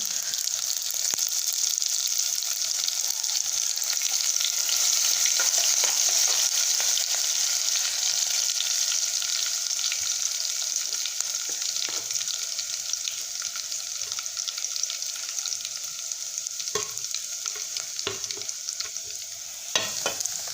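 Garlic and coriander paste sizzling and frying in hot oil with cumin and mustard seeds for a Vidarbha-style jackfruit curry, a steady loud crackling hiss with stirring scrapes throughout.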